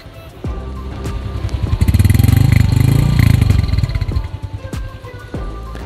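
A Honda Revo Fit motorcycle engine and exhaust run steadily nearby, with a crisp idle that rises in a brief rev and settles back, no talking over it.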